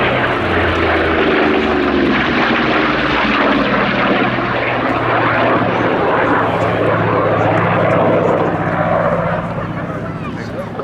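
Corsair propeller fighter flying at Yeovilton Air Day 2016, a loud, sustained piston-engine roar that swells and slowly fades as the plane passes, while a commentator talks over it throughout.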